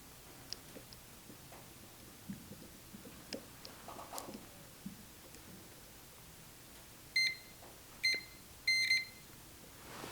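A multimeter in continuity mode beeps while probing a Honda Civic windshield wiper switch at a junkyard, giving three short, clear electronic tones in quick succession near the end after quiet handling clicks.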